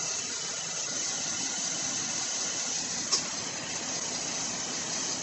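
A 2009 Buick Enclave sits idling in a garage during A/C hose work, a steady low engine hum with faint hiss running evenly throughout, plus one brief sharp click near the end.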